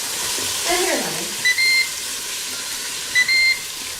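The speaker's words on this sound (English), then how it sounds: "There's that pot beeping again." A cooking pot sounds two short electronic beep pairs, each a quick chirp followed by a longer tone, heard over a kitchen's steady background hiss of sizzling food, with a brief voice-like murmur early on.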